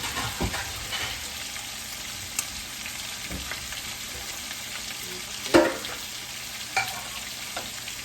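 Lamb chops fry in a pan with a steady close sizzle, broken by occasional sharp pops and a louder crackle partway through.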